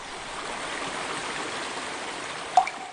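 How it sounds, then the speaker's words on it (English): Mountain stream water flowing in a steady, close hiss and rush, with a brief splashing burst near the end and no voices. "Water flows from the mountains, carving paths as it goes."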